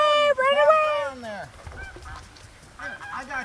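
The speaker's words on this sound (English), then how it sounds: "There's the geese." Geese honk outdoors in a loud cluster of overlapping calls up close, then fainter scattered honks trail off.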